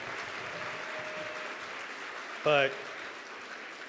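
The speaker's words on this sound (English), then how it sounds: "another round of applause for these amazing people" An audience at a Year Up Bay Area graduation ceremony applauds with a steady, even patter, and a speaker's voice cuts in briefly near the end.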